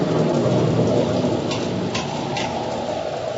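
A squall at sea in an old radio drama: heavy rain pours in a dense, steady roar with low thunder rumbling beneath, loud and continuous, and no one speaks.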